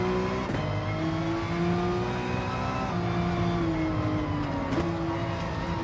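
Several race car engines drone steadily in a racing video game, a Corvette running close behind, with sustained high revving tones that shift pitch slightly as cars jostle in the pack.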